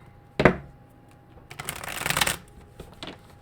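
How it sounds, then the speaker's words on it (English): Tarot cards are shuffled in a few quick riffling bursts, close and crisp, with a sharp snap at the start and a longer flutter in the middle. "one more shuffle here"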